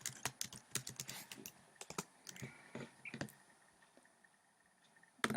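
Rapid clicking keystrokes on a computer keyboard as a search is typed, a quick uneven run of taps that thins out into a few scattered clicks, close and fairly quiet.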